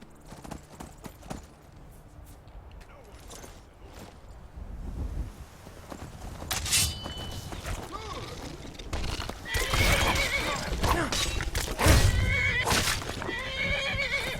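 A horse in Skyrim neighs and whinnies loudly while hooves clip-clop at a gallop, growing busier and louder toward the end amid other game sounds.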